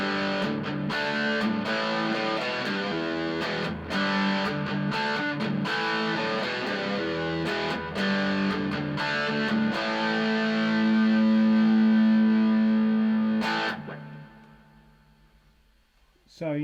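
Electric guitar on its bridge pickup runs through a budget amp simulator pedal, giving a driven, crunchy tone: strummed chords and single notes, ending in a long sustained note that fades out, with a brief sound at the very end.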